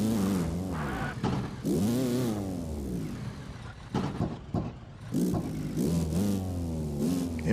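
A racing car in a racing video game revs hard near an airport circuit, its engine note climbing and falling in repeated surges with brief gaps between them, loud and close.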